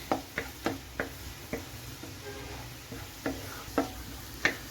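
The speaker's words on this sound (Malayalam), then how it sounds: "നമുക്കിതൊന്ന് വഴന്ന് വരുന്നിടം വരെ വെയിറ്റ് ചെയ്യാം നമ്മുടെ വെളുത്തുള്ളിയുടെയൊക്കെ കളറൊന്ന് മാറി വരുന്നിടം വരെ നമ്മളൊന്ന് ഇളക്കി കൊടുക്കണം" Garlic and ginger sautéing in a pan while being stirred, a soft steady background broken by a series of sharp, spaced scraping ticks from the spoon, close and fairly quiet, with no talking.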